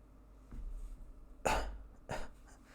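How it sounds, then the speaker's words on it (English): A few short, soft coughs spaced apart, close and muffled, with quiet breathing between them; no talking. "Coughing is not comfortable."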